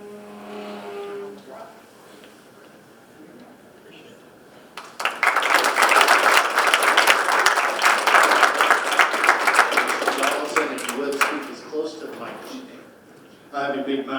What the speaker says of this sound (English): don't applaud me when I come in here and don't applaud me when I leave